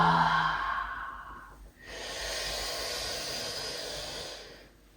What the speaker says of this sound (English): inhaling through the nose and exhaling through the mouth.